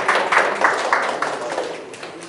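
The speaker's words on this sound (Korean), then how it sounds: "박수로 맞아주시면 감사하겠습니다." An audience at a conference claps to welcome a presenter, a steady wash of applause with a faintly pulsing rhythm that slowly fades.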